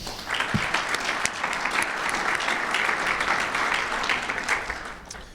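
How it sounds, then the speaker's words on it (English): Audience applause fills a law school alumni and faculty scholarship luncheon, a steady round of clapping from a sizable crowd that holds for several seconds before tapering off. "Please join me in a round of applause."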